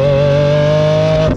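A first-generation Lamborghini Aventador engine revs loud and close, a strong sustained droning tone held steady before dropping off abruptly at the end.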